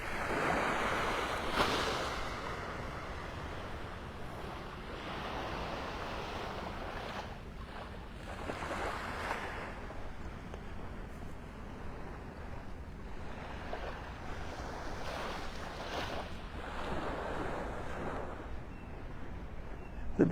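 Ocean surf washing steadily onto the beach at Pelican Bay in North Naples, Florida, heard as a continuous rushing wash with recurring swells breaking, mixed with wind buffeting the microphone.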